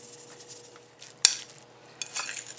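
Garlic, salt and pepper being roughly mixed through ingredients in a bowl, with soft scraping and rustling, one sharp clink of a utensil against the dish midway, then a brief burst of louder stirring near the end.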